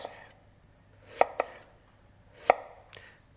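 A knife cuts thin slices of onion against the grain on a cutting board, producing a few crisp, separate chops with quiet pauses between them, close and fairly distinct, with no talking.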